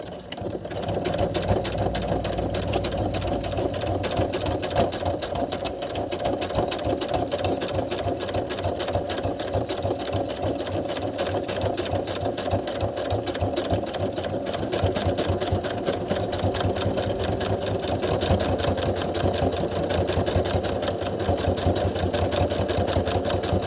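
A sewing machine stitches a quilt binding in a steady, rapid mechanical chatter, running continuously at close range for the whole stretch with no voices.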